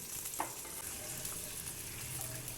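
Yogurt splitting as it cooks with mutton korma in a pot, a steady soft sizzle and bubbling throughout with a brief stir clink near the start, no talk.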